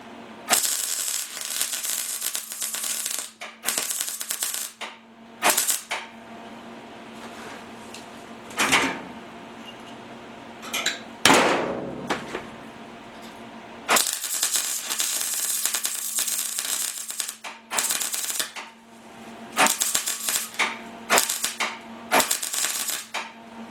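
Plug welding through weldable primer on the floor of a Willys CJ5 body tub: repeated bursts of loud crackling, sputtering arc, each lasting a second or several, broken by short pauses, up close with no talk.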